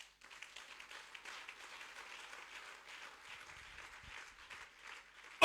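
A church congregation applauding the Lord, with sustained, dense clapping from many hands in a steady wash that ends abruptly.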